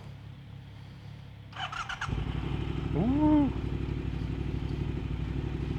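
A motorcycle engine fires up and revs, its rumble swelling into a rising whine, while a voice lets out a brief excited shout.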